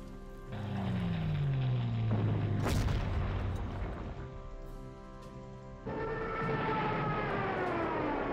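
Artillery fire in the World War II strategy game PC GC 39-45 Rommel near Vitebsk, a deep boom with a sharp impact crack over whining, siren-like descending tones and a sustained rumbling backdrop.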